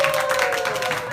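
A short burst of applause for a course translator, dense clapping from a small group, brief and steady over roughly a second.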